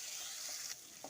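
Chopped onion frying in a pan for a drumstick leaf and horse gram upsaru, a soft steady sizzle with a brief scrape of stirring near the end.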